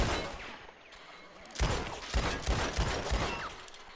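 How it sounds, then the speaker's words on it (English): Gunfire in the video game Red Dead Redemption 2: a burst of several quick, sharp shots in succession after a lull of low noise, moderately distant and fairly quiet. "Let's use a real gun."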